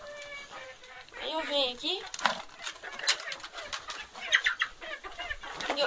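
Chickens clucking and squawking in a coop at feeding time, close and busy, with someone talking over them and some rustling and flapping.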